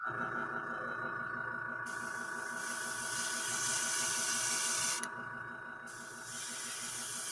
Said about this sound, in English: And we can hear you spraying